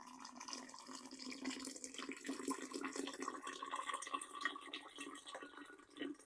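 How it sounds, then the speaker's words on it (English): Freshly boiled water pours steadily onto sugar, a continuous close splashing trickle that runs for several seconds without pause. "And I'm going to add to it water that I just boiled."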